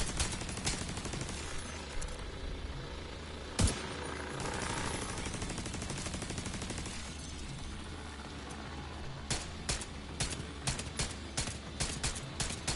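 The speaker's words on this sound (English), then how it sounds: "Just trying to proc the talent here by shooting at the cart." Game gunfire from The Division 2 aimed at a cart, with a sustained burst of rapid shots followed by a string of sharp separate cracks near the end, loud and close against a busy game background.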